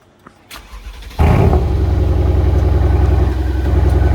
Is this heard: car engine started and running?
yes